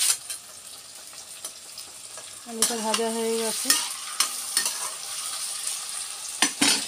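Ground spice paste hits hot oil with fried potatoes in a pan, a steady sizzle broken by sharp clanks and scrapes of a spatula stirring, plus a brief tonal squeak midway.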